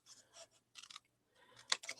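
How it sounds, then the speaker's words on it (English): Scissors cut through scrapbook paper in a few short bursts, crisp snipping sounds separated by brief pauses, with a sharper slice near the end, close and fairly quiet. "I'm lining it up to where it meets this piece here, and I'm just going to cut it."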